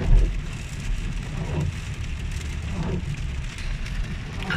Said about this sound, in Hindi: बारिश का तो मज़ा ही कुछ अलग है।